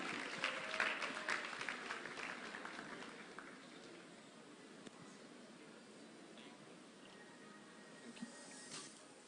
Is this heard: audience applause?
yes